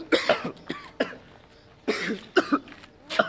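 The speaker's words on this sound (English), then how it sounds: "Both are coughing so much." Repeated harsh coughs in irregular bursts, close and loud, with short pauses between fits.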